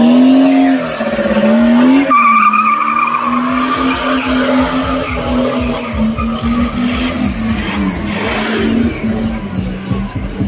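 A car does a smoky burnout at a Ken Block tribute gathering, its tires squealing in a long, loud, sustained screech over a roaring engine that rises and holds.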